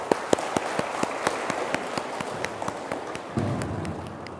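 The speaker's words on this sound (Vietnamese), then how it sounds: "hội thánh chúng tôi rất vui mừng và vỗ tay để chào đón mời mọi người đứng" A church congregation claps to welcome guests, with a steady run of crisp, evenly spaced hand claps under a low room hum, joined by a fuller wash of sound near the end.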